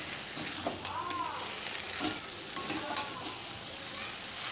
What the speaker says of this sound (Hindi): अब हम इसको थोड़ा सा चला लेंगे, मिक्स कर लेंगे धनिया पत्ती के साथ अच्छे से।